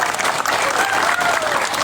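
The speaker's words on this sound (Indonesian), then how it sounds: "Beri tepuk tangan dulu yang meriah untuk Pak Anies." An audience at a public event gives a dense, lively round of applause, steady and loud throughout, with crowd noise and a faint voice under the clapping.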